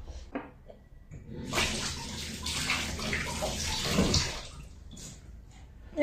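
Tap water runs steadily while silkworm pupae are rinsed by hand for stir-frying in a home kitchen, a continuous broadband splash with brief surges, close and alone without talk.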